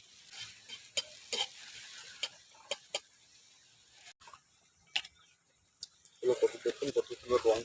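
Sugar frying in oil in a pan for a paneer curry: a faint sizzle under scattered scrapes and clicks of stirring, growing busier toward the end.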